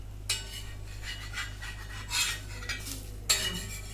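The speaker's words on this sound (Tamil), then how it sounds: "நான் அதை பொறுமையாக திருப்பி போடுறேன்" Food being turned over in a pan while a Kerala dish cooks, giving quiet scraping and rubbing strokes of a utensil against the pan with a few sharper clinks over a steady low background hum.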